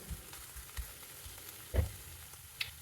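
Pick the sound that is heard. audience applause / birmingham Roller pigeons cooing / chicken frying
chicken frying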